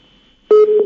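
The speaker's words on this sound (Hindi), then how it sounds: "चलिए फोन डिस्कनेक्ट हो गया।" A phone call on a live news broadcast disconnects with a short, loud electronic beep after silence, holding steady with a brief second pulse near the end.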